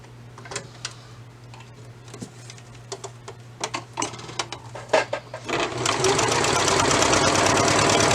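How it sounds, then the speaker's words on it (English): A serger stitches 1/4 inch clear elastic onto the waistband of sewn leggings, first as scattered clicks and ticks, then a loud steady whirring run in the final seconds, with no talk. "So I'm going to thread up my serger for that."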